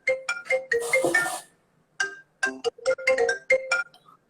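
A mobile phone's ringtone plays a short chiming melody, pauses briefly, then repeats, clear and close with no talk over it.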